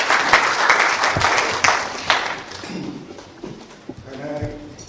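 A conference audience at a disaster management course for the Nigerian Navy claps to welcome a speaker; a burst of applause that thins out within seconds, leaving a few stray claps and a voice starting to speak.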